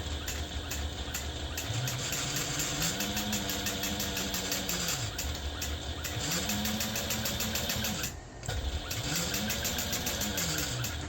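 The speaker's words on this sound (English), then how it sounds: "I want to use a 1/8 inch seam allowance to just sew all the way across this" A sewing machine runs steadily across a backpack seam with a 1/8 inch seam allowance, its rapid needle clatter close and continuous, with a few slight slowdowns and one brief pause.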